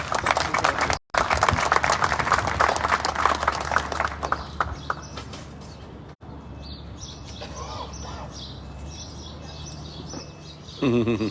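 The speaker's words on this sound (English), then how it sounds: "let's give her a round of applause" A crowd claps loudly and densely, then the clapping thins and fades into a softer background murmur.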